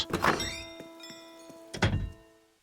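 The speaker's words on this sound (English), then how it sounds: "I'll just bang on her house" Knocking on a villager's house in the Animal Crossing video game: two clusters of dull thumping knocks about a second and a half apart, close and fairly loud, with a soft tonal chime lingering between them.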